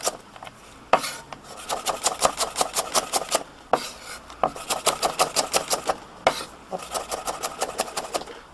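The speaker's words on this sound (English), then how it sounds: "we're going to slice them again at another angle, and that gives us a nice effect on the carrot" A knife slicing carrots on a chopping board, giving rapid rhythmic bursts of sharp cuts in quick runs separated by brief pauses, close and crisp.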